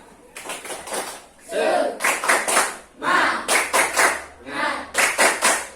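Schoolchildren in a classroom clap in rhythmic bursts of quick, sharp claps separated by short pauses, with their voices chanting along between and over the claps.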